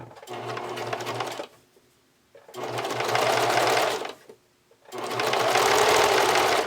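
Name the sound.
sewing machine zigzag stitching elastic onto fabric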